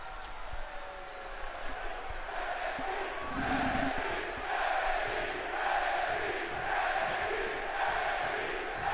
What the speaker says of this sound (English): As a crowd chanting NXT, NXT.